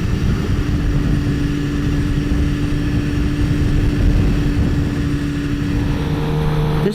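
A 2016 Suzuki GSX-R 750 sport bike cruises down the road, its engine a loud, continuous, steady drone with a sustained whine, mixed with wind rush at a constant speed.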